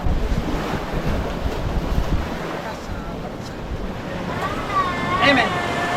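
Ocean surf washing onto a beach shore, a continuous close roar of breaking waves mixed with strong wind buffeting the microphone, with faint voices and a brief squeal near the end.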